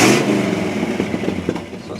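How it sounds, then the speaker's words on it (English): A 1950 Meteor coupe with a 350 V8 runs nearby, its steady mid-pitched engine note holding through with light rhythmic pulses and no talking. "It's a good sounding little car."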